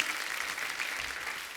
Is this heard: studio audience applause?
yes